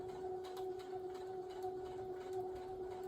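A sewing machine stitching along the quilted edge of a king-size postage stamp quilt, a steady close mechanical hum with a continuous tone and faint rapid needle ticking.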